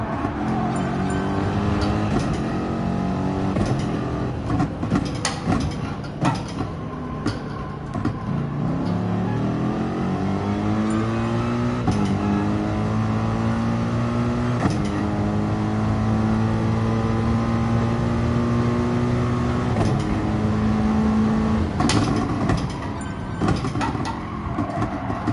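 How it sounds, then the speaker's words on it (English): Race cars scream around Laguna Seca in Gran Turismo Sport, engines revving and rising in pitch through gear changes as several cars pass nearby, loud and continuous with no talking. "It's very distracting with all those cars around."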